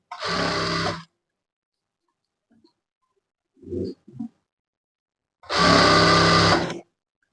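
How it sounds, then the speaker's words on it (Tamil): Sewing machine stitching blouse fabric along a straight line, running in two short, loud, close bursts separated by near silence with a few faint handling noises. "இந்த ஸ்ட்ரைட்டாக உள்ள கோடில் வந்து அப்படியே ஸ்டிச்சிங் பண்ணிட்டு வரேன்"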